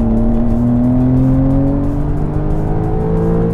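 A Porsche 911 of the 992 generation, Carrera model, with its engine pulling hard on the Hockenheim circuit, a loud sustained flat-six tone rising steadily in pitch as it accelerates, close and with no voices.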